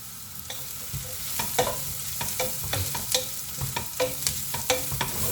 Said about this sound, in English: now next I'll be putting in the cabbage, because cabbage is the one which needs the least amount of cooking.